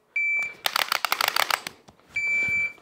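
Shot timer set on a random start delay gives a loud electronic beep, a quick rapid string of sharp clicks and clatter follows, and a second long beep sounds at the end.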